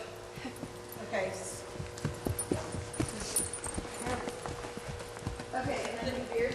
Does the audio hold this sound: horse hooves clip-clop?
yes